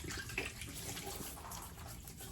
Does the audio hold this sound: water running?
yes